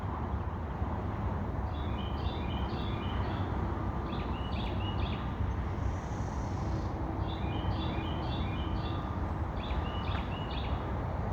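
Two birds trading short chirping calls back and forth along a wooded nature trail, faint and at a distance over a steady hiss of outdoor background noise.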